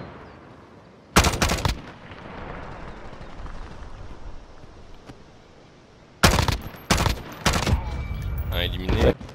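Gunfire in the Warzone battle royale on Rebirth Island, with sharp bursts of automatic fire around the one-second mark and again from six seconds on in rapid clustered volleys over a quieter ambient bed, fairly close and loud.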